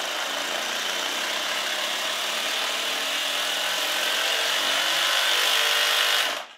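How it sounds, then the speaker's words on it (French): A Bosch 18V SDS Plus cordless rotary hammer drill runs up slowly and holds a loud, steady whirring motor drone, close by, before cutting off abruptly at the end. "Et donc là, mon perfo il va démarrer tout doucement."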